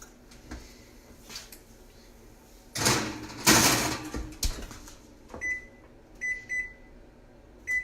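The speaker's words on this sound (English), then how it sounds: "we're gonna pop these in and we're gonna set the timer for 11 minutes" An oven door thumps shut on a tray of eggs, then a string of short electronic beeps sounds as the timer is set, close by in a home kitchen with a little talk around it.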